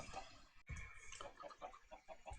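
Chickens cluck in a Minecraft chicken and iron farm, a run of short, rhythmic clucks and squawks packed close together at low volume with no speech.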